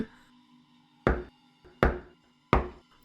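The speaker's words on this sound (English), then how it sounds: "Every single door, within and without, began to shudder, sounding as though they were being beaten by battering rams, rather than a child's knuckles." Three heavy, evenly spaced knocks pound on a door, loud and close, each a sharp booming thud with a short ringing decay, in a fictional horror story setting.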